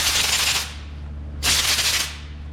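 An air compressor nozzle blows metal shavings off a magnet in two loud hissing bursts, the first lasting about half a second and the second about half a second after a pause, with a faint low hum underneath.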